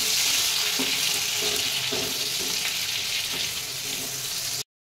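Spice paste is stirred into chicken in a frying pan: a loud, continuous sizzle with repeated spoon scrapes in an uneven rhythm, then it cuts off abruptly.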